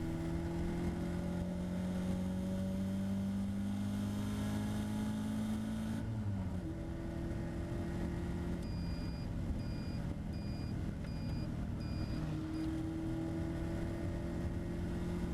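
A Caterham race car's engine drones steadily at Donington Park track, its pitch rising through the gears and dropping at a shift, with a continuous close, loud cabin roar throughout.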